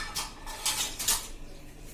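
Rose petals being stirred into powdered sugar to make homemade gulkand, giving soft clinking and scraping bursts that come and go over about two seconds, close by, with no talking.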